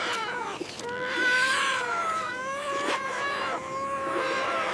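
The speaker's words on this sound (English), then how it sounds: "The little seals are crying on the ice." Young seal pups cry out on the ice with repeated wavering, drawn-out bleating wails, several calls overlapping and rising and falling in pitch, moderately loud and near, with no talk.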